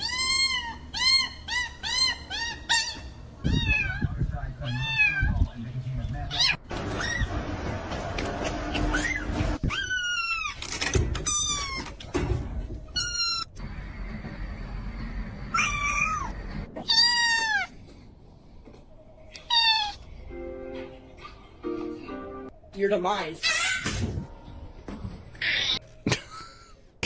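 A cat meows close and loud again and again, with varied pitch and length and some drawn-out cries, and short spoken words in a few places.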